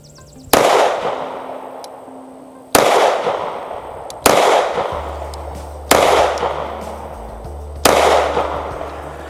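Kimber CDS9 pistol firing Sterling steel-case rounds in a grouping test: five loud, sharp shots spaced about one to two seconds apart, each with a short decaying echo, and no talking.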